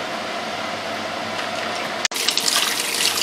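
Warm water runs loudly into a kitchen sink for washing canning lids and rings while tomatoes are canned, a steady close rush that cuts out briefly for an instant before resuming in splashy bursts.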